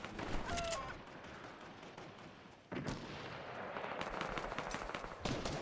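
SMG gunfire in the video game Fortnite, rapid dense bursts of shots in a continuous rattling stream with a brief pause midway, loud and close.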